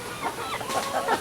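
Young farm turkeys give short clucking, gobbling calls close by, several quick bursts in a brief moment with no one talking.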